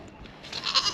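Dairy goats in milk bleat faintly in the background of a farm yard during chores, with a brief, soft cry rising near the end.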